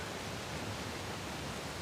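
A waterfall in the video game Uncharted: The Lost Legacy pours out a dense, even roar of rushing water, steady and close with no breaks and no talking.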